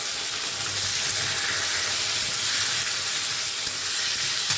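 Onion paste fries with sliced potatoes in a pan, giving a loud, steady sizzle with a hissing, crackling texture close up and no talking.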